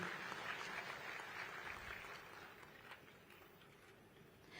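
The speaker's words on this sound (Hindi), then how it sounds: "एक बार जोरदार तालियां आपकी मैं यहां चाहूंगी।" Sustained applause from an audience at a women's empowerment conference hall in Rajasthan, a dense steady wash of many hands clapping that slowly fades toward the end.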